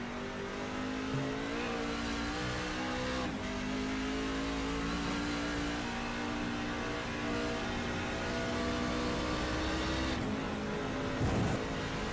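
A race truck engine in a truck racing series, droning steadily at high revs as it laps a track, with a sustained buzzing tone that dips briefly and swells again as it passes, heard continuously with no talk.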